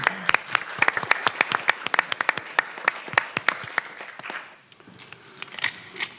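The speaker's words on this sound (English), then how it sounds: "let's give another round of applause to Cane Bay Middle and Berkeley Intermediate School" Audience members at a school district board meeting applaud middle and intermediate school students, many hands clapping in a lively patter that gradually thins out and fades near the end.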